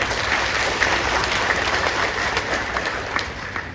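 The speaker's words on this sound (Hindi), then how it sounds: "एक बार जोरदार तालियां हो जाए" Audience at a felicitation ceremony for newly elected MPs breaks into steady, sustained applause, dense and continuous clapping from a large crowd throughout, with no speech over it.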